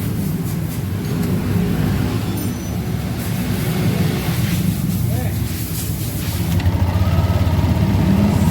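Yamaha Aerox 155 scooter engine running at a steady idle during testing with the radiator removed, a close continuous low hum and whir that grows slightly louder near the end, with people talking.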